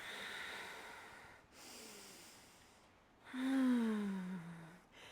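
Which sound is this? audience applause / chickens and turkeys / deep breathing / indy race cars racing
deep breathing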